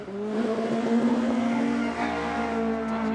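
A loud Peugeot 106 race car climbs a hill-climb course, its engine note rising and holding as it passes nearby, with a hint of tyre noise and no talk.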